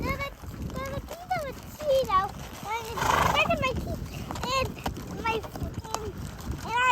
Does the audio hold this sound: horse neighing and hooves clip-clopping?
yes